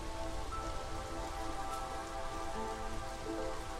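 Drizzling rain in the city-builder game Against the Storm, a steady dense patter of raindrops on surfaces that stays constant throughout, with soft tonal game sounds in the background and no talking.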